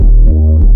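A reese bass plays alone in a funk beat with the kick turned off, one loud sustained low note that dips and returns in a single short phrase.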